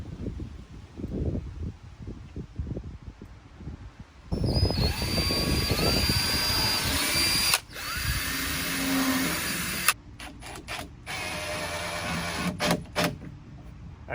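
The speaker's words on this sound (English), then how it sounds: "I used a real small drill bit, I forget what it was, and then I kind of stepped up to an 1/8 inch drill bit" A power drill fitted with a small bit boring into wood for a DIY herb box outdoors, a steady high whine running for several seconds with brief pauses and wind noise before it starts.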